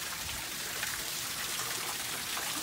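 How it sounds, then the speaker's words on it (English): A small waterfall splashing into an elephant pool at a Disney-themed villa, a constant hissing wash of falling water and trickling, steady and close with no talk. "we've got a nice little waterfall here"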